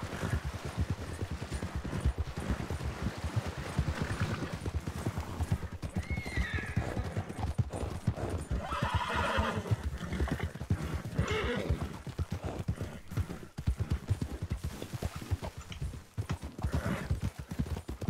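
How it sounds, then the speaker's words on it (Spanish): Horse hooves clop steadily and close in a video game, with repeated loud neighs and whinnies rising over the running gait throughout. "¿Se le cansó el caballo?"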